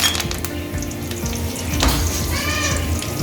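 Curry leaves fry in hot oil for an emperor fish gravy, giving a steady close sizzle with occasional stirring scrapes and no talking.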